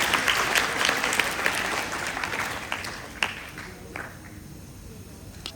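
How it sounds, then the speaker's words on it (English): An audience claps after a patriotic dance at a school Independence Day assembly. The applause is loud at first, then gradually thins to scattered claps as it fades. "Beautiful patriotic dance with a big round of applause."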